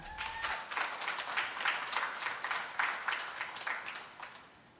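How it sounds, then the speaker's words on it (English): Audience applause for a singer at a launch event, a steady crowd clapping from start to finish before fading out at the end. "She deserves another round of applause."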